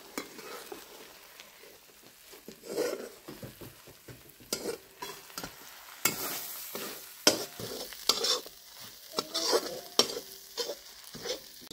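Spice masala with dried red chilies fries in a pan for a village-style rohu fish curry, a crackling sizzle broken by repeated scraping stirs and a few sharp louder bursts, close up with no talking.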